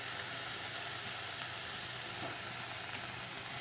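Amaranth leaves with turmeric sizzle and hiss in a frying pan, a steady, fairly faint fry with soft stirring scrapes and no talking.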